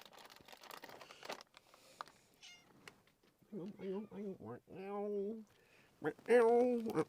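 A pet cat meows repeatedly while waiting for treats, several clear drawn-out meows close by, the last one loudest, with someone talking in between.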